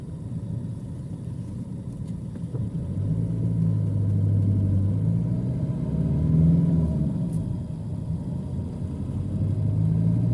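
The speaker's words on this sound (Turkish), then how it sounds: "Deniz zamanı, deniz zamanı olduğu için de yüksek trafik var" Steady car engine rumble and road noise from inside a vehicle moving through heavy beach-season traffic, a continuous low drone that swells slightly midway with no talking.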